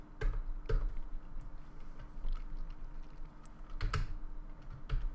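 Keystrokes on a computer keyboard, a string of scattered clicks with irregular pauses, close and fairly quiet over a steady low hum.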